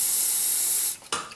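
A steady, loud aerosol hiss of hairspray for about a second, then a brief pause and a short second burst, spraying into a pan.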